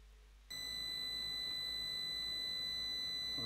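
UPS alarm sounding, a steady high-pitched electronic tone that starts abruptly after a quiet moment and holds continuously, fairly faint.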